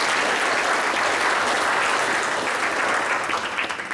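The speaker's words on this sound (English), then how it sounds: "Can you all give a clap of applause?" A church congregation claps together in sustained, dense applause, a steady wash of many hands that holds evenly before thinning slightly at the end.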